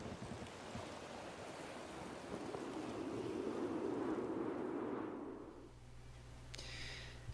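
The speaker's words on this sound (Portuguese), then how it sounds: "Aquelas ondas todas enormes à noite, né?" Stormy sea waves crash at night in a film scene, a broad surging roar that swells, peaks, then eases into a lower rumble, with a brief higher tone near the end.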